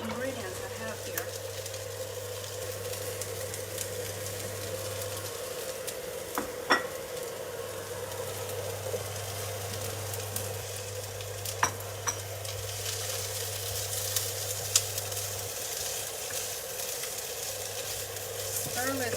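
Ingredients stirred and cooking in a pan for a healthy home meal, a steady low sizzle running throughout with occasional clinks and scrapes of the utensil against the pan.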